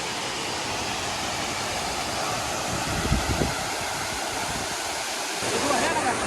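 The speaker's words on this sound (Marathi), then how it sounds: "धबधबा पण इथं" The waterfall at Waghbil near Badlapur sends up a steady, full rushing roar, with brief voices and footsteps rising over it midway.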